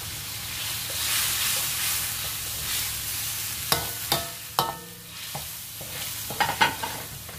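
Spices fry and are stirred in a pan, a steady close sizzle with scattered sharp scraping and clinking strikes of the utensil against the pan, no talking.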